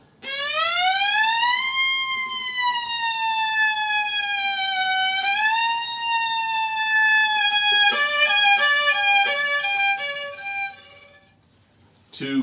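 Bowed strings mimic a siren, sliding pitch up and down in long wails, then breaking into choppy stepped tones before stopping.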